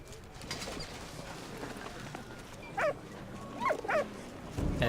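Faint cooing pigeons and a few short dog barks from the video game Valiant Hearts, scattered calls spaced over a quiet ambient background, with light rustling between them.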